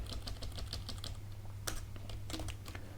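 Fingers type on a computer keyboard in quick, uneven bursts of close, crisp keystrokes over a low steady hum.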